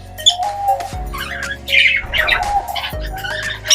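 A Lutino pet bird squawks in several loud, harsh bursts close by, with brief pauses between calls and no talking.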